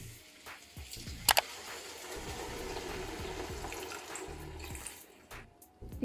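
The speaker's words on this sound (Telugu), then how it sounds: "ఇక్కడ ఒక గ్లాస్ వాటర్ వేసాను" A glass of water is poured into a pan of stuffed baby brinjal masala curry, a steady splashing pour that runs for several seconds amid kitchen clatter, with a couple of sharp clinks near the start.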